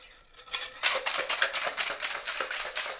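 Cocktail shaker filled for a bourbon flip with pecan and chocolate is shaken hard, producing rapid rhythmic rattling of ice against metal, loud and close, for about two and a half seconds.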